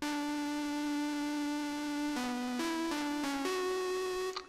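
Vengeance synthesizer patch holding a bright, buzzy sustained tone that then steps through several short pitch changes near the end, steady and loud with no voices.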